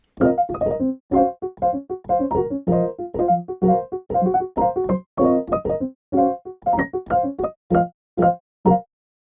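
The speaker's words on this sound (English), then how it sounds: "And then I played this on the soft piano in Labs" Soft piano chords and octaves from Spitfire LABS played in short, rhythmic plucked stabs, a steady pattern of detached notes with brief pauses, clear and alone.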